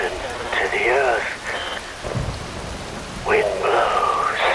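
Rain falling in the video game Metal Gear Rising: Revengeance, a steady hiss of rainfall beneath a speaking voice.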